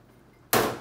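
A cup of water pours into a small clear container, a sudden bright splashing rush that starts midway and continues steadily to the end, close and loud.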